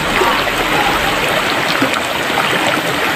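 Water of a small stream running steadily among rocks, a constant near rushing and trickling with no pauses.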